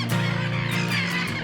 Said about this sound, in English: A lot of birds, as you can hear as well.